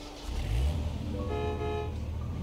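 A ranger vehicle is driven in Jurassic World Evolution, its steady engine hum loud and close with a short horn-like tone near the end.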